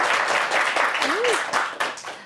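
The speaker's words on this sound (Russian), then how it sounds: "Поддержим аплодисментами." A television studio audience claps on a Gomel evening show, with brisk applause running throughout and a brief voice rising out of it partway through.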